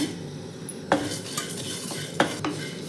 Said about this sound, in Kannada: ಸಿಮ್ಮೆಲ್ಲ ಇಟ್ಕೊಂಡು ಫ್ರೈ ಮಾಡ್ಕೊಳ್ಳಿ